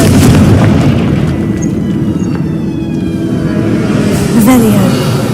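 A Confringo fire spell blast in the Hogwarts Legacy video game, a dull boom buried in a dense, continuous wash of battle noise, with a slightly sharper burst near the end.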